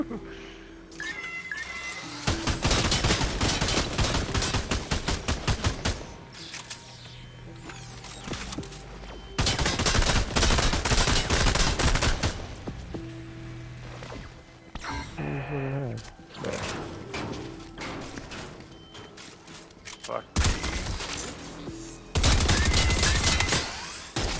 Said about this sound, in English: shooting at me, Will.